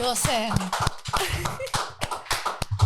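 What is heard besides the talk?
audience applause, hands clapping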